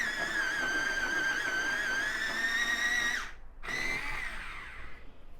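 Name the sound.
sharpening a light cadmium red Polychromos colored pencil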